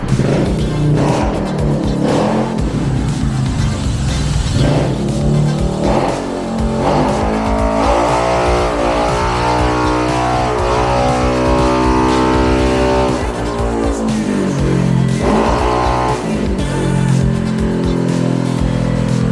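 A remapped car with a tuned muffler revs hard on a dyno, its loud exhaust note climbing in pitch through long pulls, easing briefly between runs, close and dominant with no talking.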